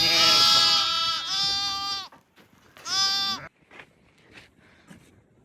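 Loud, close bleating from newly lambed ewes and lambs in winter countryside, a long wavering cry followed by a shorter one, then quieter rustling and faint calls.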